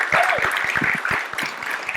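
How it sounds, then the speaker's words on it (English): Audience applause at a star-studded musical app launch evening, a brief dense burst of clapping with some voices mixed in. "Let's say this has to be the loudest round of applause."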